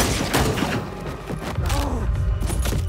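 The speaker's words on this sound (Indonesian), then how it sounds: "di tengah baku tembak" Dense gunfire in an action film's shootout, a loud, rapid fusillade of shots and thuds filling the whole moment, with faint voices mixed in.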